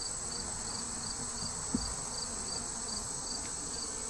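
Honey bees buzz around an open hive frame of worker brood, a steady, even drone of many wings filling the background throughout.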